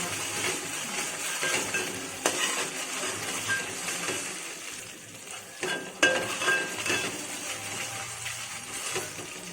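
Ginger garlic paste fries in oil in a kadai with a soft, continuous sizzle, while a spoon stirs and scrapes against the metal pan in occasional clinks and taps.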